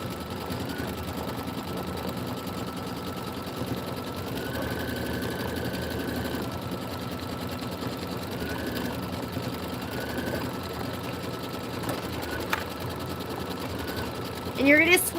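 An embroidery sewing machine stitches out a Kimberbell County Blooms pillow design, a steady fast mechanical whir running continuously throughout with a few brief higher tones over it.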